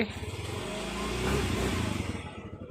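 A Yamaha Mio i 125 scooter engine revs up close, a loud buzzing mid-pitched drone that rises in pitch and then settles with a pulsing idle-like throb.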